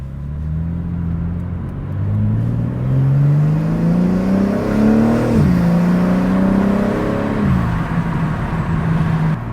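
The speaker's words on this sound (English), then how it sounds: "That blow-off sound with these S58s, man, sounds so good" A BMW G80 M3's turbocharged S58 engine with a carbon fiber intake revs up and down with rising and falling whine, punctuated by sharp hissing blow-off releases as the throttle lifts, loud and close.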